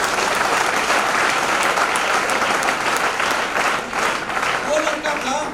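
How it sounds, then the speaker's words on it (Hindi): An audience at a promotion ceremony claps steadily and loudly throughout, a dense continuous patter of many hands with crowd murmur mixed in. "उनके लिए जरा ताली बजा दिया"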